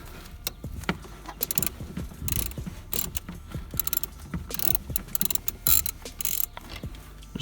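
Ratchet wrench loosening a bolt on a BMW 335i N54 engine, giving quick clicking runs and short mechanical rattles in irregular bursts, close up and without speech.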